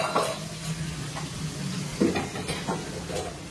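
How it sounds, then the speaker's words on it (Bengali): Food fries and gets stirred in a home kitchen, a steady soft sizzle with irregular scraping strokes of a utensil against the pan, fairly close and with no voices. "এই যে দিদি এখানে রান্না করছে"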